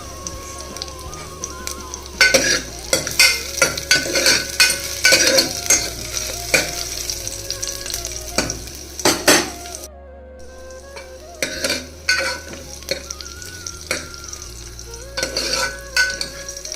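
Garlic frying in a pan for Mysore dal, a continuous sizzle with frequent metal spatula scrapes and stirring clatter that comes in bursts, briefly dropping quieter midway, with no talking.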